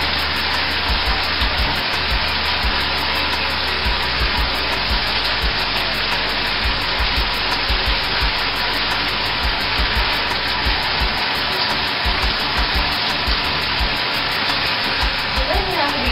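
Warm tap water pours in a loud, unbroken hiss and gush as Kool-Aid-dyed hair is rinsed, steady from start to finish.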